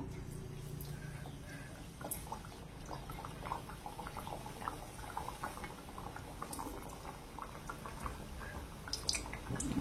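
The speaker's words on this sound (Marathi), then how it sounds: "आता समोसा आपण तळून घेऊ. तेल तापलेले आहे." Potato and green pea samosas deep-frying in hot oil over a low gas flame, giving a continuous close bubbling and crackling with small pops and drips throughout; no talking.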